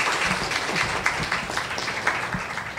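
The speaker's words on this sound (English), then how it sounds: "Give it a round of applause to the panel" Audience applause for a panel at a women-in-tech Q&A event, a steady dense wash of clapping through the whole stretch at moderate loudness, with no talk over it.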